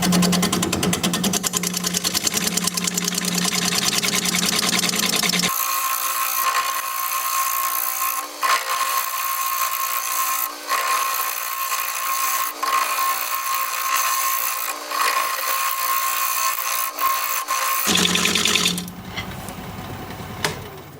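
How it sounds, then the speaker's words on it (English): A wood lathe spins a root ball at about 600 RPM while a 5/8 inch bowl gouge cuts it, making a loud, continuous whirring drone with scraping and intermittent rough catches and knocks from the uneven wood. "We're going to be turning at about 600 RPM, 5/8 inch bowl gouge"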